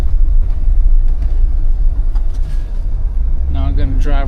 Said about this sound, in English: I'm going to do a U-turn right here.